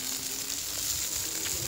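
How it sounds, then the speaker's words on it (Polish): Food sizzling on an outdoor grill at a May Day cookout, a steady broadband crackle and hiss that holds evenly throughout with no talking. "Smakowicie skwierczą."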